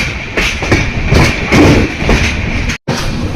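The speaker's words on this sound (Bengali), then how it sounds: "তো ট্রেন ছেড়ে দিল" A train pulls out of a station at Puri bound for Kolkata, heard from on board as a loud, close rumble with rhythmic clickety-clack thumps of the wheels and a brief dropout.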